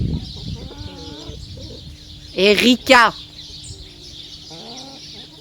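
A Brahma hen lets out a burst of loud, close squawking clucks in two quick bouts, with quieter clucking and a person's voice around them.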